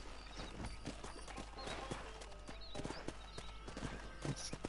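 Quiet, rhythmic horse hoofbeats clip-clop through ambient outdoor noise in the video game Red Dead Redemption, continuous throughout at a moderate distance.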